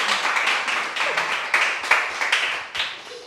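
A small audience at a French game-show style event applauds a winner, scattered irregular claps rising and falling in bursts, moderately close and not very dense.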